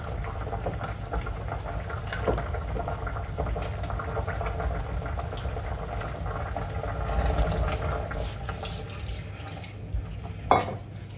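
A pot of thickened plum punch sauce bubbles at a steady boil, a continuous low churning and gurgling close by, with a brief clink near the end.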